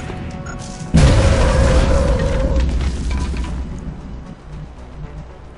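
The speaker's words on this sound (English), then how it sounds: "Throwing grenades!" A grenade explosion in XCOM Enemy Unknown bursts after a moment of quiet, a loud deep boom that rumbles and slowly fades over several seconds.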